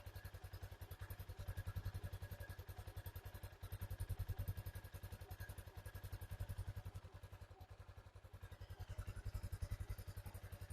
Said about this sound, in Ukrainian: Завівся він, враховуючи те, що він гарячий, м'яко кажучи, гавняно, якщо чесно.